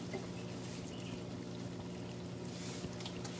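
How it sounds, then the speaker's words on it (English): A cup of water poured into an Instant Pot, a brief, soft trickling pour heard close up over a low steady hum. "And then put my 1 cup of water."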